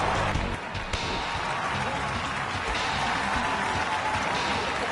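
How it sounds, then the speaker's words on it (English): Steady crowd clapping from a New Japan–style wrestling arena in the video game WWE 2K25, a dense continuous wash of applause with little cheering, held at an even level throughout. "So I'm noticing that there are a lot more clapping than cheering."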